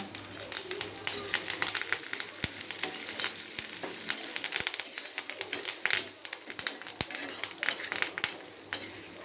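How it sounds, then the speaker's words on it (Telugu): Curry leaves fry in hot oil in a pan, a steady close sizzle and crackle with scattered pops and occasional sharper clicks throughout. "మంచిగా వేగినాయి కరివేపాకు కానీ వేసుకున్నాను"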